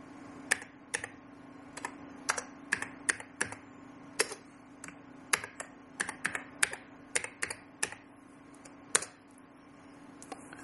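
Typing on a computer keyboard, with irregular bursts of sharp, close key clicks and short pauses over a faint steady hum.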